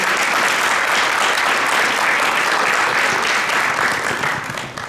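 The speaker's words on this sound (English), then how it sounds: "Please give them a big round of applause." Audience applause for artists on stage at a Thyagaraja Aradhana classical arts event in Houston, a full, even roar of many hands clapping that holds steady and begins to thin at the end.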